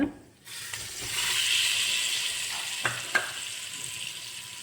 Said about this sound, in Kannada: ನೀವು ಇದನ್ನು ಚೆನ್ನಾಗಿ ಫ್ರೈ ಮಾಡ್ಕೋಬೇಕು ಮೊಟ್ಟೆನ